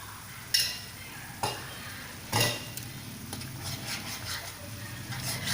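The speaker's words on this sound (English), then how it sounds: "Fry this for about 5 minutes." Ash gourd halwa fries in ghee in a pot with a soft, steady sizzle, broken by a few sharp clinks and scrapes of a spoon stirring against the metal.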